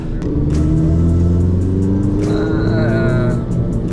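A 2018 Volkswagen Polo GTI engine revs loudly and close, its deep rumble climbing and falling in pitch with a raspy, resonant tone, enhanced by a resonator under the windscreen bay.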